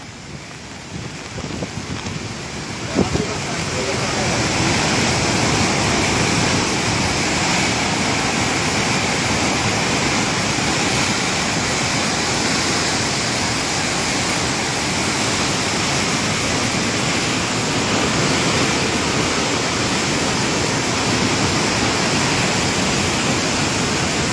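A loud, steady roar of the flooding Ravi river fills the clip after a quieter opening few seconds, broad and unbroken with no voices.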